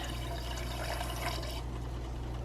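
Water pouring steadily for a 2-to-1 sugar syrup to feed bees on a small urban farm, a continuous rushing stream over low hum that thins out partway through.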